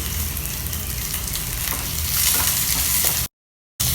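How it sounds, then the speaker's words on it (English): Onions and garlic frying in a pan, a loud continuous sizzle with crackling spatter up close, swelling slightly before a brief cut to silence, then resuming. "The onions and garlic are well fried now."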